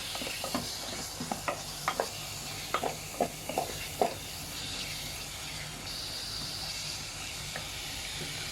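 Beef stir-fried with red curry paste in a pan makes a steady sizzle and hiss, with quick clacks of a spatula in the first half before the sound settles into a continuous fry.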